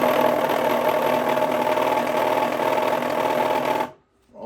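An electric can crusher motor spins up with a steady, loud whirring mechanical drone that holds for about four seconds, then cuts off abruptly into near silence before a faint rise returns.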